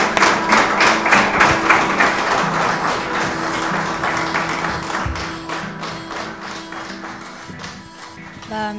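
Audience applause welcoming a singer to the stage at a French talent show, steady dense clapping throughout with scattered taps and thumps, fairly loud and close, no speech over it.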